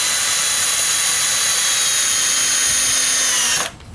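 A power drill drives a deck screw into a wooden frame for a stone mailbox, a loud continuous high whine held for over three seconds before cutting off abruptly.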